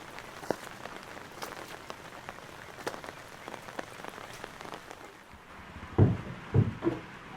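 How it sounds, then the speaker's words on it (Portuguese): Steady rain hisses over a surface with scattered drop taps, then a few louder thuds and splashes near the end. "Está chovendo para diabos"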